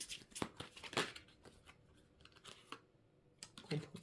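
Tarot cards drawn from a deck and laid out on a table give a few soft papery snaps, slides and light clicks, scattered and close, with no talking.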